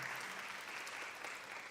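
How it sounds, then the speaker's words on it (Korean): A church congregation at a Sunday youth worship service claps together in a steady, even round of applause, fairly faint and alone without speech. "하나님 영광의 박수 올리도록 하겠습니다"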